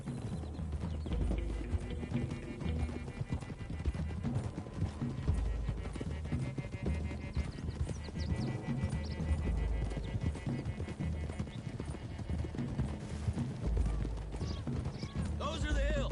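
Horses from the Red Dead Redemption 2 video game clip-clopping at a run, with an occasional whinny, under game music and spoken dialogue throughout.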